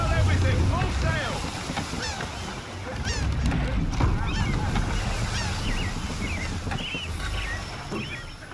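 A sailing ship under full sail in Assassin's Creed 3, with steady wind and rushing water around the hull, creaks and splashes, and voices calling out over it.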